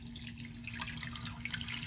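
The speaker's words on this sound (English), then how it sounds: "I'm just going to pour some of the cabbage through there" Red cabbage dye solution poured through a strainer into a measuring cup, a steady close liquid splash and trickle for about two seconds with a faint low hum beneath.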